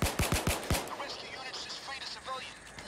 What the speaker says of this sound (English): you wanna get shot when I shoot at you?